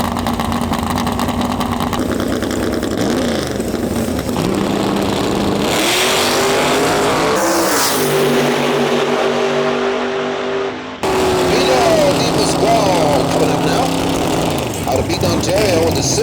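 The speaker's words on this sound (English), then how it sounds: "The Russo brothers, Camaro coming up against Nicky Palladino." A Chevrolet Camaro drag racing car at a street-class drag strip event roars loudly and continuously, the engine rising and shifting in pitch as it launches, while an announcer talks over the din.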